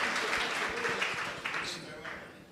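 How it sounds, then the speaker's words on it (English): A conference crowd claps for roundtable panelists, a soft, brief burst of applause that fades out within a few seconds. "I would like a big round of applause for Anthony Minessale, Brian West, Mike Jerris, Chris Rienzo, Jakub Karolczyk"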